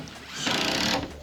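A brief whirring burst of a power driver sinking a screw into plywood roof sheathing over rafters during a garage rebuild, close and rising then cutting off after about half a second.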